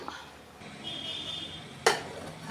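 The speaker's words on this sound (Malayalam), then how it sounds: "തുറന്നൊന്ന് നമുക്കൊന്ന് ഇളക്കി കൊടുക്കാം" Metal lid lifted off a cooking pot of Kerala-style fish peera, then a quick clank of a spoon against the pot while stirring, faint and close with a short sharp hit near the end.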